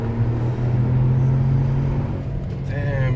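A Geely Coolray's engine drones loud and close with a steady, rich rumble, holding under load as the car pulls through a tight bend.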